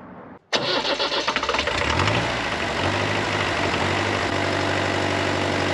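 A Nissan diesel engine swapped into an Oliver OC-3 crawler cranks and fires after a brief silence, then settles into a loud, steady close-up running rumble with no talking.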